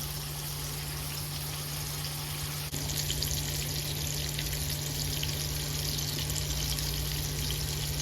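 Stuffed salmon filled with cream cheese and spinach fries in a pan with a steady, even sizzle and a constant low hum behind it, unbroken for the whole stretch apart from one faint tap partway through.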